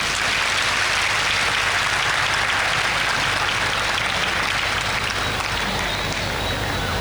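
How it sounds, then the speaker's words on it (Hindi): Loud, dense applause fills a church gathering during a Mass at a Marian feast celebration, a continuous wash of many hands clapping at steady volume from start to finish. "माँ के लिए एक ज़ोरदार ताली हो जाए"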